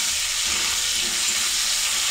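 Salt-and-turmeric-coated potato pieces frying in hot oil in a home kitchen, a loud, steady, dense sizzle running throughout with no voices.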